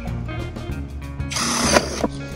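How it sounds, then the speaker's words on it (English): A power drill whirs with a rising mechanical grind as it bores holes in the bottom of a plastic container, close and fairly loud, ending in a couple of clunks. "we're gonna drill some holes in the bottom of this container"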